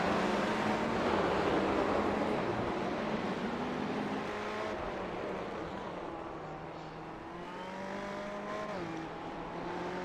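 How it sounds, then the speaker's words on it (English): Ferrari 488 GT3 race cars in iRacing at the Nürburgring streaming past in a close pack, a blend of engine whines rising and falling in pitch at moderate level with a steady roar underneath. "Cars are running very close to each other."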